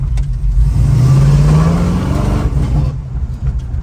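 A 1969 Dodge Dart Swinger with a 340 V8 and 3.23 gears revs hard while spinning a donut, its loud rising engine note dominating throughout, with a sustained climbing howl that eases off near the end.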